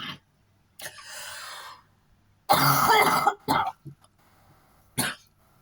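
A person coughs and clears their throat several times in short, loud bursts, close by, with quiet pauses between.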